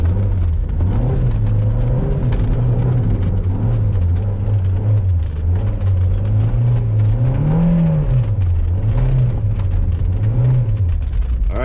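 A Mazda MX-5 Miata on snow tires climbs a snowy hill, its engine droning loud and close with a steady low hum that swells and dips as the revs rise and fall, with no talking.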